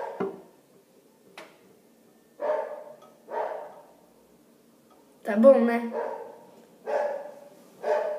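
A pet dog barks repeatedly indoors in short loud bursts spaced a second or so apart, with a person speaking between and over the barks.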